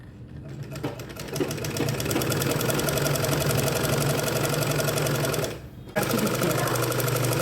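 A sewing machine runs steadily, stitching straight along the attached neckline of a dress. The close, continuous mechanical buzz stops for a brief gap near the end, then resumes.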